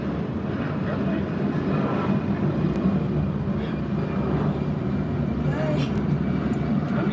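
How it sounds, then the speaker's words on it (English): An airplane drones overhead as a steady, fairly loud low engine roar that persists throughout, with a person briefly speaking over it. "We do have a airplane."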